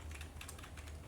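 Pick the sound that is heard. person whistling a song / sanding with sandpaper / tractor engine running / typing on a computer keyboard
typing on a computer keyboard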